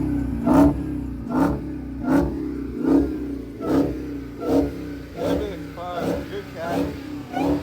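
A car engine in neutral is blipped repeatedly at a car show, roughly ten rising revs in a steady rhythm, each swelling and falling back, loud and close.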